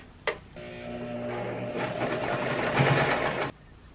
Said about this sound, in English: I sew right along this.